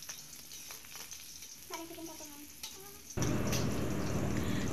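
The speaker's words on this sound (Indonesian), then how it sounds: "Kemudian tinggal kita goreng sampai cabenya ini mateng." Shallots, garlic and chilies frying in hot oil for sambal terasi, a soft crackling sizzle that jumps to a loud, dense hiss as fresh ingredients drop into the pan.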